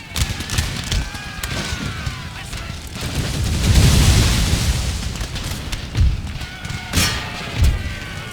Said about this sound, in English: Grenades again, gentlemen.